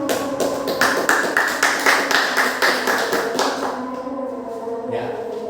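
Classroom applause for a student: a group of students clapping in rhythmic, fairly close bursts that fade out after a few seconds, with faint voices around.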